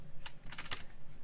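Rapid, uneven keystrokes clatter on a computer keyboard, close and clear, a burst of several quick taps with slight pauses between them and no voices.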